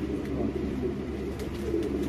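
Racing pigeons in a loft give low, soft, continuous cooing close by, a steady murmur of overlapping coos without pauses.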